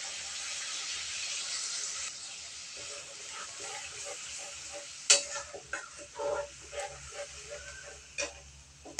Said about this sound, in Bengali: এবার নারকেলের দুধটুকু দিয়ে দিচ্ছি।